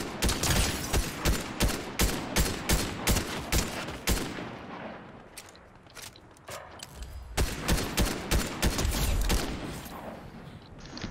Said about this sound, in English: I'm just shooting random people here